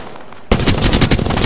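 Sudden burst of rapid automatic gunfire in an Apex Legends firefight, loud and close, a dense stream of shots that begins abruptly after a quiet moment.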